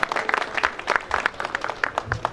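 A gathering at a school alumni association centre opening applauds a CHP member of parliament, with brisk, distinct handclaps from a smallish crowd that are close and uneven.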